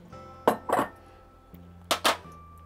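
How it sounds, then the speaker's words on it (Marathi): Rock sugar crushed in a mortar and pestle, two pairs of sharp, hard clinking strikes with a pause between the pairs, close and fairly loud. "आपण खडीसाखर बारीक करूया।"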